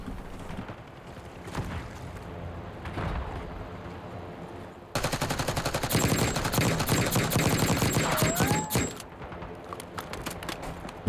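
Rapid automatic gunfire in the Black Ops 6 / Warzone video game, first sparse distant shots, then a dense close burst of fast repeated rounds for several seconds before tapering off.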